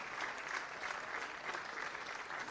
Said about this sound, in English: getting warm applause here from the crowd